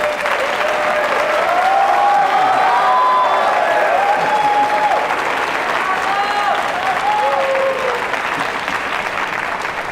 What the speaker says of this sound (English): please be generous in your applause today